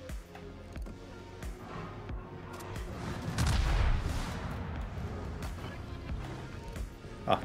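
Naval gunfire in World of Warships, a series of sharp shots followed by a heavier booming salvo near the middle, with rumbling reverberation and a voice talking quietly underneath.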